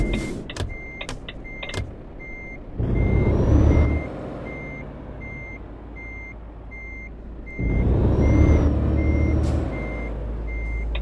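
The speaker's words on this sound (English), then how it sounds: "we need to reverse just a smidge" Truck reversing in Japan Truck Simulator, a steady series of evenly spaced backup beeps over a low diesel engine rumble that swells twice as the throttle rises, loud and close with no voices.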